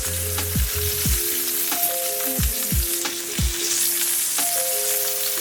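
A ribeye steak sizzles loudly with butter in a pan, a constant dense frying hiss with occasional sharper crackles and scraping clinks, no talking.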